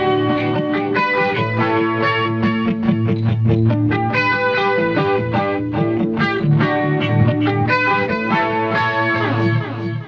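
Distorted electric guitar played through a BOSS eBand with hall reverb, dense sustained chords and riffing, loud and continuous without a voice.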